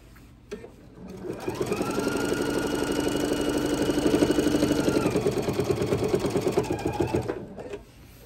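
A sewing machine stitches binding onto a quilt, running at a steady rapid clatter for about six seconds before winding down to a stop.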